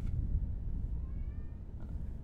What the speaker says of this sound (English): I've got a cat yowling outside the door now.